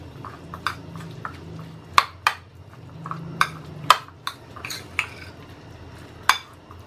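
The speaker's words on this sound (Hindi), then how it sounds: "अच्छे से मिक्स कर लेंगे।" Spoon clinks and scrapes against a bowl as chaat ingredients are stirred together with grated processed cheese, a run of sharp metallic taps over a soft, steady stirring background, close and with no talking.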